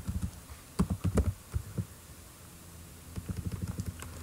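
Typing on a computer keyboard while entering code, with close, clustered clicks in quick bursts separated by a short pause, fairly soft and alone.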